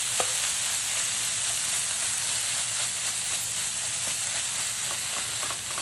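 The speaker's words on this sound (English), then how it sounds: "So this is the pork vindaloo. Let's dump that into our pan." Pork vindaloo fries in a pan with a loud, continuous sizzle and hiss, close and steady throughout, with faint scraping and stirring ticks and no voices.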